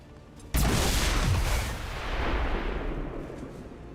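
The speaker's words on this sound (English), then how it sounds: "Throwing grenade." A grenade goes off in the Long War 2 strategy video game, one sudden loud blast that rolls into a long, dense rumble, fading slowly over several seconds with no talk over it.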